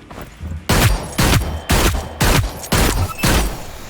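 Six sharp revolver shots in the Hyperscape video game, fired at a steady rhythm about half a second apart, each loud crack ending in a short booming tail.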